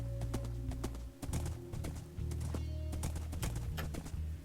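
Horse hooves clip-clop in a steady rhythm on a mountain path in a modded game world, crisp and close, over a low ambient drone and faint bird calls.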